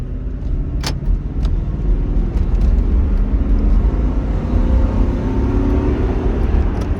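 A Toyota Sequoia with 209,000 miles idles and runs nearby, a steady low engine rumble with a few brief clicks near the start and no talk over it.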